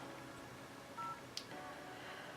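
Telephone keypad tones sound in a short, faint sequence of beeps over quiet background hiss on a call, with one sharp click.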